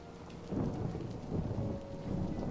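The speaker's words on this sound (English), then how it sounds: "Perhaps they didn't hear us coming because of the rain." Rain falls steadily in the Lamentum video game while low thunder rumbles in swelling waves underneath. No voices are heard.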